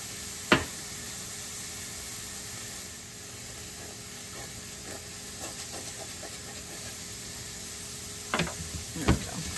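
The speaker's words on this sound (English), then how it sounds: "we're back over here, sauteing the onion" Onion sautéing in olive oil in a pan gives a steady, soft sizzle throughout, with a few sharp scraping or clinking spikes from utensils near the start and end.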